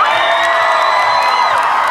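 A large crowd cheers, whoops and applauds loudly and continuously for a dance school celebrating its 15th anniversary at a festive stage event.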